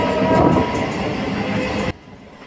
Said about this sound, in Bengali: তো চলো, ট্রেন ঢুকছে, ওদিকে সিগন্যাল দিচ্ছে।